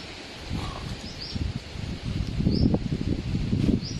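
Strong, cold morning wind gusts through leaves in uneven rustling surges that grow louder toward the end, with a few faint bird chirps high above.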